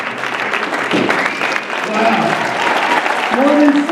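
An audience at a Beachbody weight-loss event breaks into applause, a dense wash of clapping that holds steady throughout, with a voice briefly audible over it.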